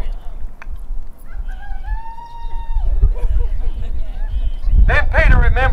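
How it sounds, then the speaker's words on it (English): A rooster crows once in the middle distance, a long rising-then-level call lasting about two seconds, set against steady low rumble, with someone speaking toward the end. "And immediately a cock crowed."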